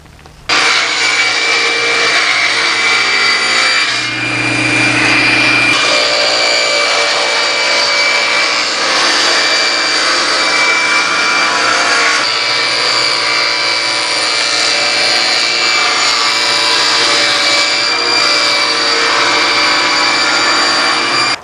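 A table saw rips lumber boards to a 12-inch width in a workshop, producing a loud, continuous motor whine with a brief change in tone as the blade bites into the wood.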